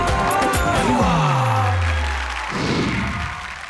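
Studio audience applause and cheering on a comedy poetry show, a dense burst of clapping under a descending musical sting that swells again toward the end.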